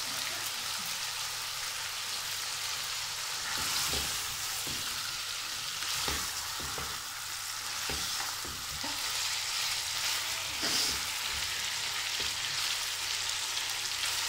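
Beef frying for shami kebab sizzles steadily in a pan, a continuous crackling hiss broken by occasional scraping stirs and soft knocks, close and moderately loud with no talking.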